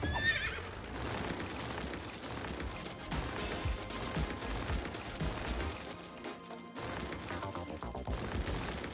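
A horse whinnies loudly in a radio advert inside the Cities: Skylines video game, followed by clip-clopping hooves and busy sound effects that carry on almost without pause.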